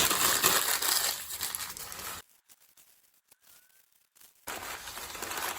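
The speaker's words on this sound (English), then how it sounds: "just rip it into a smaller piece and crumple it down" Small pieces of newspaper are crumpled by hand, close and loud, with dense crinkling bursts at the start and end and a quiet gap in between.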